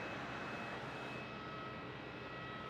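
Singapore Airlines Airbus A350-900 on its takeoff roll from runway 27 at Melbourne Airport, a steady, broad jet-engine roar that holds evenly throughout at a moderate distance, with no voices.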